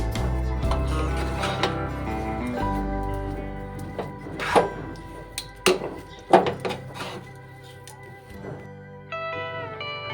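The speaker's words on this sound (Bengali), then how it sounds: "এলাচের গুঁড়ো দিয়ে আমি নাড়িয়ে নিচ্ছি।" A spoon stirs semolina and cardamom powder in a pan, with scattered metallic knocks and scrapes, a few louder near the middle, over soft background music.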